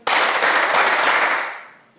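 An audience in an Indonesian differentiated-learning workshop claps together on instruction, making a dense burst of many overlapping claps. It starts abruptly, stays loud for over a second, then fades out.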